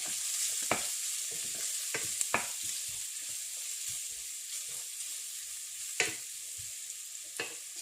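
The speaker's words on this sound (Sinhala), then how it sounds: "මේක හොඳට කලවම් කරනවා." Chili powder is stirred into food frying in a pan, a constant sizzle with scattered scraping clinks of the spoon against the pan, close up and without speech.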